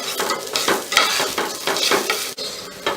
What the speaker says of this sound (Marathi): तांदूळ चांगला परतून घ्यायचा आणि